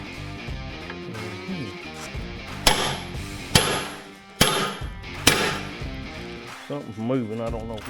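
Steel hammer blows on a drift punch driving a worn attachment pin out of a skid steer, four sharp ringing metallic strikes spaced about a second apart over a steady background of music or voice.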